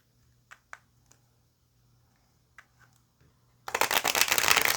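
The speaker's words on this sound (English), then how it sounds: "we're gonna go ahead and pull some tarot here" A deck of tarot cards is riffled and shuffled close by. A few soft card taps come first, then about a second of dense, continuous shuffling in a quiet room.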